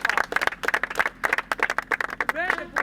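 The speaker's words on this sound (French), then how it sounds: "Raison pour laquelle nous devons applaudir à M." Brisk, irregular hand clapping from a small group at a project inauguration ceremony in Kananga, close and fairly loud for a few seconds, with a brief voice near the end.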